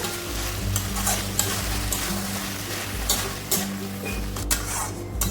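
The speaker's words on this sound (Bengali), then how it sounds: "এখন একটু নাড়াচাড়া করে ভালো করে মিশিয়ে নিই।" Vegetarian banana flower curry with gobindobhog rice, stirred and frying in a pan: steady sizzling with repeated scraping and stirring strokes and occasional clinks of the utensil, close and continuous, with no talking.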